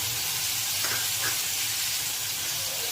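Onion, garlic, peas and spices sauté in hot oil, giving a steady loud sizzle and hiss throughout, with a couple of brief stirring scrapes near the middle.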